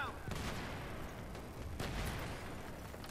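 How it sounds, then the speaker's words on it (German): Battlefield 3 game combat with a dense burst of gunfire-like blasts and grenade explosions, repeated sharp booms at about 0.3 s and 1.8 s over continuous rumbling battle noise, moderately loud throughout. "wer spammt denn so mega viele Granaten?"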